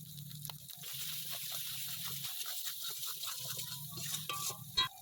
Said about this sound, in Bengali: মশলাটা কষানো হয়ে গেছে, দেখুন মশলা থেকে তেল বেরিয়ে গেছে।